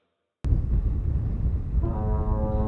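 The world's largest horn sounds from 1.6 km away. A sudden loud broadband roar starts after near silence, and a steady harmonic tone swells in later and holds to the end.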